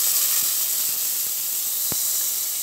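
Garlic and bell pepper sautéing in a pan give off a steady, loud sizzling hiss, with a few faint clicks and knocks on top.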